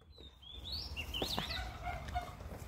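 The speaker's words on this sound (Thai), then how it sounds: "ไอ้ตัวผู้มันเรียกตัวเมียไม่ยอมกลับ" A male wild junglefowl calls to a hen near a house, giving a short chirping, clucking call that stands out close and clear over a low background rumble.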